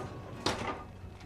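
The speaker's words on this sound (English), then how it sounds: "To partition this off, we have a pocket door here." A pocket door slides in a 2022 Newmar Dutch Star 4369 motorhome, one brief rolling swish with a soft knock as it moves, heard close and alone against quiet room tone.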